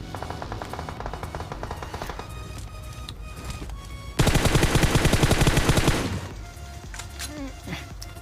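Rapid AKM automatic fire in the PUBG video game, with a dense, loud burst of repeated shots in the middle and lighter shooting and in-game sounds around it.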